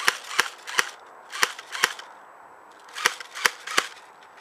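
A shaken airsoft gun fires on its own, with no trigger pulled: sharp, snappy cap-like shots in two clusters, four quick pops, a pause, then three more, heard close and alone.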